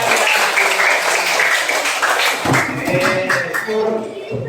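Children in a classroom clapping their hands together in a dense, continuous patter that fades out partway through, with voices mixed in.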